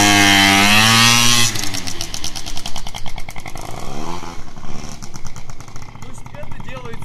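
A scooter engine revs hard and loud as the throttle is opened fully during a wheelie attempt, with the engine note rising and surging in uneven bursts for several seconds.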